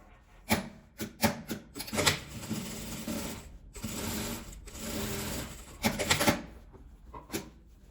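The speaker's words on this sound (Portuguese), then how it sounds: "E aqui agora eu vou pespontar ele virado pra cima." A sewing machine topstitching fabric for a small ruffled zippered pouch runs in several short, quick bursts separated by pauses, close and moderately quiet, with no voices.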